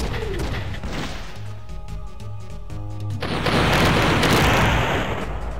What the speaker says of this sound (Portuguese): Lá vai bomba!